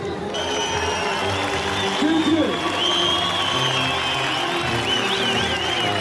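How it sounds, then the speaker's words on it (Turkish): An audience claps steadily at a political rally, the applause dense and continuous throughout, with a voice talking over it. "Alkışlarımızla dile getireceğiz."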